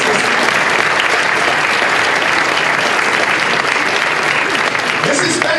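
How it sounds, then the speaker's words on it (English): Loud sustained applause from a conference audience at the 2015 National Mentoring Summit, a dense continuous clapping that fills the whole stretch, with a speaker's voice faintly over it. "That deserves a round of applause."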